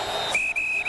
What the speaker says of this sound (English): Whistle blows down on the field.